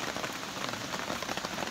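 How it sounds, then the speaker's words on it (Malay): Light rain falls on a hillside in the morning, making a dense, even patter of drops with soft scattered ticks and no voices. "Ini hujan yang ada sikit."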